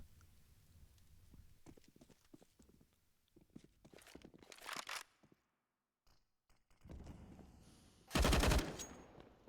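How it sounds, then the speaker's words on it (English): Counter-Strike match on the Overpass map: scattered footsteps and single shots build toward a loud, rapid machine-gun burst near the end, with a short silent gap before it. "Machine gun bursts through the NCL, 4 points of HP left for him."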